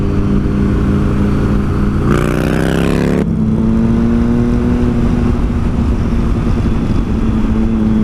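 A three-cylinder motorcycle accelerates on a mountain ride, its loud engine drone rising steadily with a brief change in pitch partway through, like a gear shift, and no voices.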